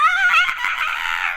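A storyteller imitates a rooster screaming, a loud, strained, high-pitched cry that wavers and breaks over about a second and a half, held close and without pause.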